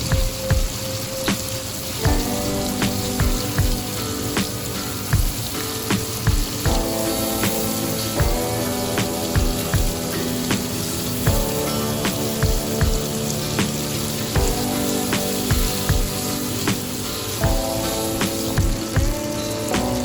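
Blended chili paste frying in a pan for sambal, a steady crackling sizzle with bursts of popping, with music playing throughout.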